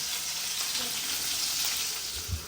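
Food sizzles steadily in a hot pan for a home-cooked meal, a continuous bright crackling hiss with a soft low thump near the end and no talking.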